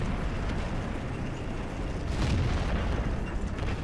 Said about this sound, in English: The Indian Panzer fired.